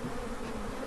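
A solid mass of bees drones in a horse stall, a thick, even buzz that stays close and unbroken for a short moment without talk.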